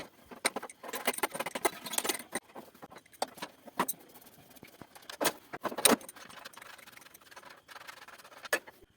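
Hand tools removing the wheel of a bicycle for a puncture repair, giving a quiet, irregular run of metallic clicks, taps and rattles close by, with no talk.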